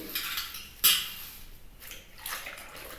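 Soft scrubbing and splashing of water against a copper pot, with a sharp clink near the start and intermittent rubbing strokes, fairly quiet and close.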